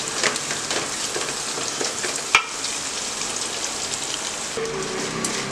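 Onions, green chilli, ginger and curry leaves sauté in a pan for wheat upma, giving a dense, rain-like sizzle that runs steadily throughout, with one sharp clink of a utensil near the middle.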